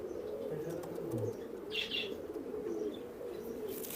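Pigeons at a pigeon farm, with soft low cooing and a few faint chirps over a steady background hum, fairly distant and quiet.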